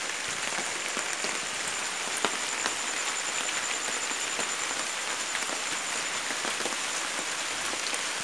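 Heavy rain pours steadily beside potted plants, a dense, even hiss with scattered sharp drop ticks. Faint frog-like croaks sit in the background and no voices are heard.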